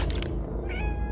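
A cat meows in the Roblox game Teamwork Puzzles, a few short game-voiced calls rising and falling over a steady bed of game music and noise, with no talking.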